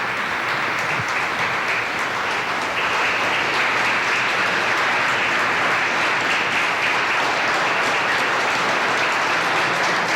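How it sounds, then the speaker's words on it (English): Sustained applause from a large crowd, steady and enthusiastic, filling the space without a break for about ten seconds. "Kevin Vickers, let's listen to the applause he's getting now"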